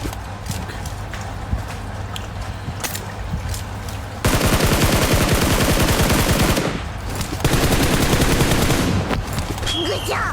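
Sustained automatic rifle fire from a Scar L or M4 in PUBG comes in two long rapid bursts of loud sharp shots, with quieter game sounds and some talking in between.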